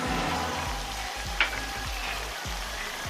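Onion and ginger-garlic paste fry in oil for chicken karahi, a steady close sizzle with a brief clink of a utensil partway through.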